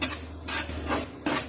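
Grated carrot and sugar get stirred in a pan, giving soft scraping sweeps and a light sizzle in a few quick strokes, close and fairly quiet.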